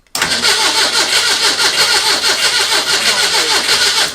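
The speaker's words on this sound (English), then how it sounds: "We fed it some fuel and hit the go button" A Ford Pinto engine, previously buried, cranks with a rapid, rhythmic chugging, loud and close, continuing steadily for several seconds without talking.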